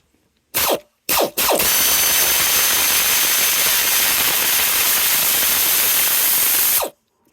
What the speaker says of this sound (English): I just drop that air ratchet on there again